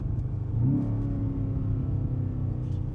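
The V8 of a new BMW M5 Touring in sport mode rumbles low and steady, rising briefly in a short rev before settling back to a deep idle growl, close and continuous.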